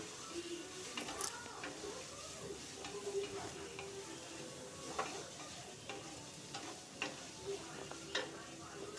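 Chopped small carrots frying in a pan for a chamagadda pulusu tempering, a soft continuous sizzle with light scraping and tapping as they are stirred, quiet and close.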